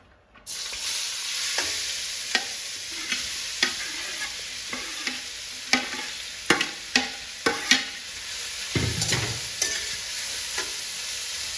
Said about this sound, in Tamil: நம்ம சுரக்காயை போட்டு கொஞ்ச நேரம் வதக்கிக்கலாம்